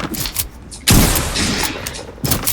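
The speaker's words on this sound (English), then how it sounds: "Oh, I always love to reload my shotgun." Pump shotgun in a video game being handled and reloaded, a couple of sharp loud bursts with mechanical clacks between them, close and fairly brief.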